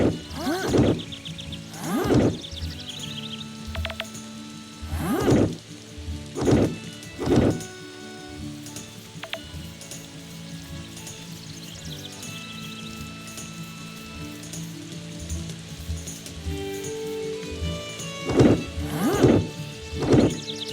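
Rain pours steadily in the farming video game Story of the Seasons: Pioneers of Olive Town, a soft continuous hiss beneath game music with recurring tonal chimes and bursts of louder sound effects, and no talking.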